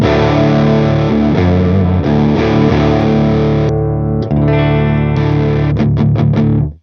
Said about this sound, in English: you can use it as an overdrive distortion pedal already without any other pedals